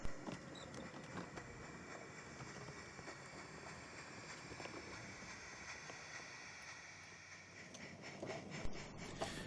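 A battery-powered model goods train runs on a garden light railway, a faint continuous rolling rumble with light rhythmic clicks of wheels over rail joints, steady and distant-sounding outdoors.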